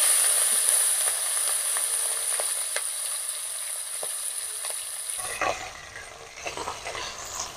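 Shrimp sizzle and fry in mustard oil in a wok, with a steady loud crackle for about five seconds that then drops to quieter, scattered spitting and stirring.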